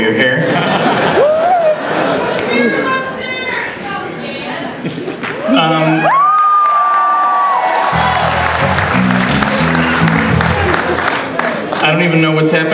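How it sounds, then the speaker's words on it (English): Live concert audience applauding and cheering at an electric show in Portland, loud crowd noise with laughter and chatter, mixed with speech over the sound system. "You guys have your own applause lines now."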